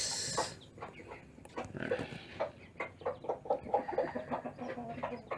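Newly hatched Bangkok chicks in a brooder box peep continuously, many thin high chirps overlapping in a busy, close chorus with no voices.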